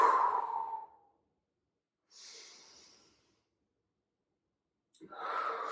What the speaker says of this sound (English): Big breath in, let it go.